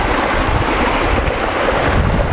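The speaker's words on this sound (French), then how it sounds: "le départ de la cascade qui se déverse dans un petit bassin d'environ une dizaine de pieds de diamètre" Water from a small garden cascade pouring into a shallow stone pond about ten feet across, a steady close rushing wash that fills the whole clip without pause.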